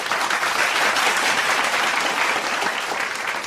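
Steady applause following a morning devotion talk on gratitude, dense and continuous clapping at an even level from start to finish with no voices over it.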